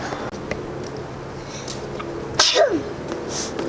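A single sharp sneeze bursts out near a backyard grill amid low outdoor background noise, loud and close.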